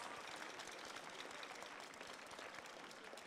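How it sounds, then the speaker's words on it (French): Audience applauding the bailiffs at a pastry world cup competition, continuous dense clapping from a large crowd heard at a distance, fairly faint and steady throughout. "Je vous demande d'applaudir les huissiers."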